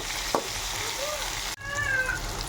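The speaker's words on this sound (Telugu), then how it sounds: "బెండకాయలు చూడండి, మనకైతే బాగా ఫుల్గా వేగాయి" Okra curry with tomato sizzles and fries in a pan, a steady crackling hiss close by with a brief clatter partway through; no speech.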